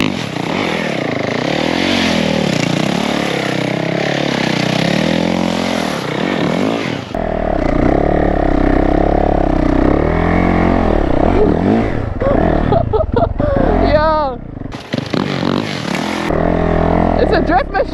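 A Yamaha YZ450F dirt bike fitted with duct-tape-wrapped tires spins donuts nearby, its engine revving and surging continuously with scraping slides, while excited voices shout over it.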